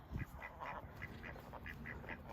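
Farmyard ducks and geese call out in a steady run of short quacks and honks, repeating roughly every quarter second at moderate distance over a busy outdoor background.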